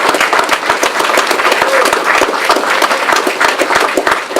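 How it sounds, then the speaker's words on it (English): Dense, loud applause from a large audience at a Kennedy Health Alliance event, steady and sustained with many overlapping claps throughout. "So give yourselves a round of applause."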